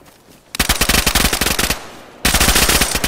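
Loud bursts of rapid automatic gunfire in the online survival game DayZ: one long volley, a short lull, then a second sustained burst of fast shots with no talking.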